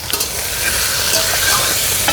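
Chicken mince with crushed garlic and onions sizzles loudly in a pan while being stirred, giving a continuous close frying hiss with small scraping clicks from the spoon and no speech.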